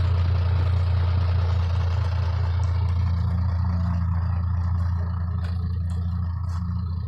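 A Ford farm tractor engine labours steadily as it pushes through deep, heavy mud, a constant low rumbling drone close by with no voices over it.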